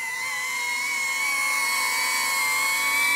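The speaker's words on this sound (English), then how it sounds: "seems like the drone is struggling less. It does make a different audible noise." DJI Avata FPV drone fitted with Master Airscrew propellers flying steadily nearby, a continuous high-pitched whine with sustained tonal hum, loud and unbroken with no voices.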